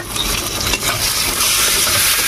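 Minced meat hits a pan of browned onions and sizzles loudly and steadily up close, with scraping stirs through the constant crackle.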